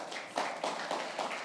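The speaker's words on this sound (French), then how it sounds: "On applaudit le Seigneur." A church congregation claps in rhythm, several sharp collective hand claps at a steady pace, moderately close in a reverberant hall during a worship service.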